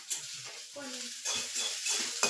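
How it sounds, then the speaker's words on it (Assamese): Eggs fry and are stirred in a pan, giving a steady close sizzle with scraping and stirring strokes, a brief voice murmuring faintly partway through. "কণী ভাজি আছ?"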